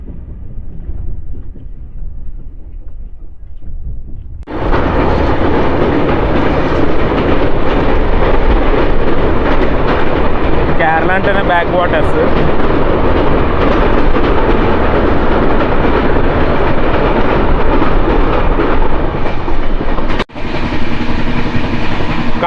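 Train on a Kerala line running fast at about 110 km/h, a sudden loud onset of roaring wheel and carriage noise with rhythmic clatter that holds steady, a brief dip near the end, and a voice speaking quietly at the start.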